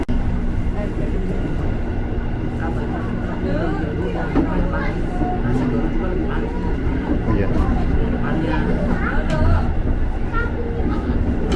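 Steady rumble of an Argo Sendoro or Brawijaya passenger train idling at Jakarta International Stadium station, with low mechanical hum and general platform bustle; a voice speaks briefly.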